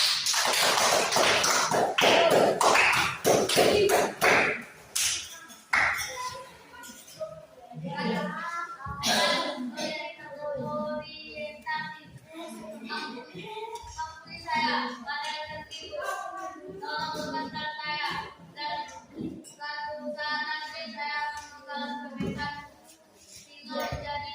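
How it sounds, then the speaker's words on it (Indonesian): Children clap their hands together in a burst of quick, overlapping claps lasting a few seconds, followed by children's voices speaking. "Oke, tepuk tangan."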